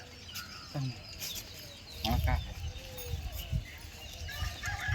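Chickens cluck and squawk nearby in short bursts, with faint voices and rustling farmyard noise in the background.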